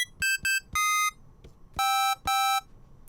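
High synth notes from NI Massive played on a Novation keypad, a series of short electronic beeps, two quick blips then longer tones, bright and clean with crisp starts and stops against near silence.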